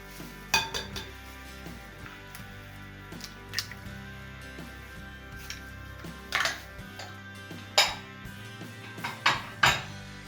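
Oat dough with eggs and spices being stirred in a bowl for flourless, fat-free diet pastries, with a spoon clinking and scraping against the bowl in irregular knocks over a steady quiet background.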